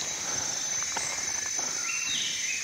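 Insects buzz and trill continuously in the Thai jungle at Phang Nga, a dense high-pitched chorus with faint scattered bird calls in the background.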